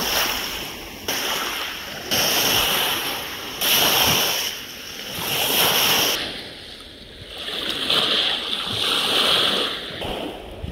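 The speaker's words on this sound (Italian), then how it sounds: "Lago Benaco, onde, acqua, vento, natura." Wind-driven waves wash steadily on Lake Garda near Torbole in cold winter weather, the surf surging and fading in broad rolling swells under a constant rush of wind, with no voices.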